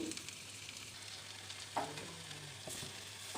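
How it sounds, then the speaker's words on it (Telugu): Fresh spinach tipped into cooked onions in a pan for palak curry, then stirred: a faint, steady sizzle with a few soft scraping stirs and one brief clatter near the middle. "దాన్ని ఇప్పుడు ఈ ఆనియన్స్లో వేసేయాలి ఈ పాలకూర అంతటిని"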